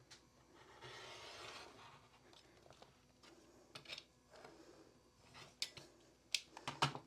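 Scissors or a rotary cutter cut through quilt fabric for a Halloween-themed quilt top, a soft continuous rasping run followed by several short, sharper snips and clicks close by, with no talk.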